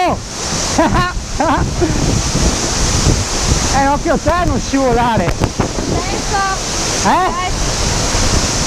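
A steady, loud roar of rushing water from inside a waterfall, the Fontanone di Goriuda near Chiusaforte, Italy, with several people talking and calling out over it.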